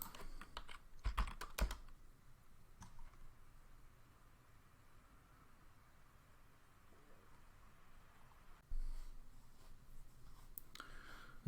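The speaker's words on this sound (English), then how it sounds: "we're going to type, you can type ls." A command being entered on a computer keyboard at a Linux command line: a quick cluster of key clicks, a long quiet stretch, then another short run of clicking.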